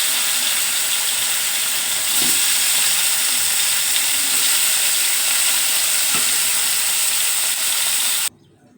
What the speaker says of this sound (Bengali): এখানে এই মাছগুলো একটু ভেজে নেব